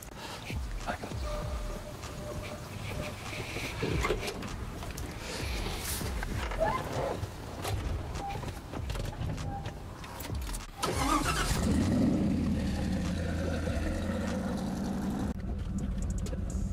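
A twin-turbo Ford F350 pickup starts up and settles into a deep, rumbling idle close by, with people talking over the engine noise.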